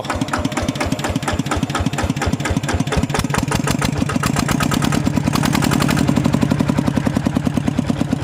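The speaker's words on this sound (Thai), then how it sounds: "เครื่องเดิมโครงเดิมครับ อ่า ฟังเสียงเบาครับ" Motorcycle with its original engine and frame idling, a steady fast chugging beat, fairly loud and close, holding an even rhythm with a slight rise in pitch partway through; no voices.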